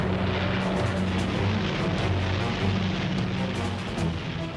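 A WWII fighter aircraft, the kind flown over Britain's RAF airfields, drones steadily overhead with a continuous propeller-engine roar, loud and sustained throughout with slight wavering in pitch.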